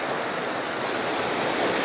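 River water rushes in a steady broadband wash, a continuous close flow with no other sounds standing out.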